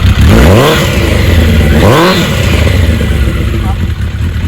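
A 1992 Suzuki GSX1100S motorcycle with about 50,000 miles runs through its exhaust pipe, revving up twice in quick rising-and-falling blips and then settling into a rough, throbbing idle close by.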